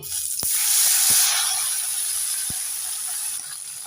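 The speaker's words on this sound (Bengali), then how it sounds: "আবারও বাকি মাছ আছে ওইগুলোকেও ভেজে নেব" Steady high sizzling of small river fish frying in hot oil, with a few sharp clicks and taps of a utensil near the start and middle.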